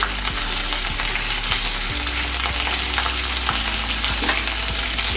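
Green chillies, onions, bean pieces and curry leaves frying in a pan for semiya upma, a steady close sizzle with occasional scraping stirs and no talking.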